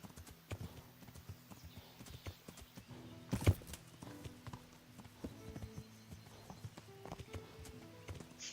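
Horse hooves clip-clopping in a steady rhythm in the medieval game Kingdom Come: Deliverance, moderately close, with one louder thump midway and soft ambient game sounds around it.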